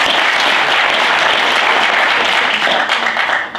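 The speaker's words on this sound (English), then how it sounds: "So please give her a round of applause." An audience at a Fanshawe College talk on women's heart health applauds a closing speaker, a dense, steady wash of clapping that holds loud and even for over three seconds before thinning out at the very end.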